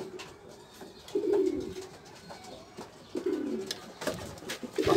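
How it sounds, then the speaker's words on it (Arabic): Pigeons cooing close by, several soft throaty coos repeating in a loose rhythm over a quiet background, with no talk. "كاين واحد الحمام، حمام روعة للبيع"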